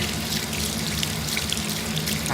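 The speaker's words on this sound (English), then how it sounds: "Hear that? That's the water running." Water runs from a tap into a sink with a steady, continuous, fairly loud rushing and splashing that lasts the whole stretch, with no voices over it.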